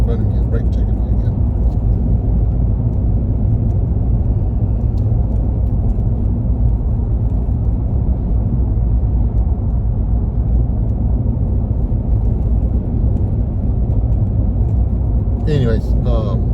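A car driving along a road and speeding up, with a steady, loud low engine and road rumble throughout under continuous talk.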